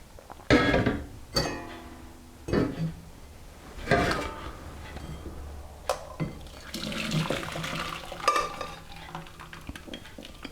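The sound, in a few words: straining celery cooking water into a bowl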